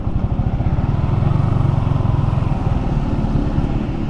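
Yamaha Sniper 155 VVA underbone motorcycle engine running steadily and close, with a loud, even low throb and no talk.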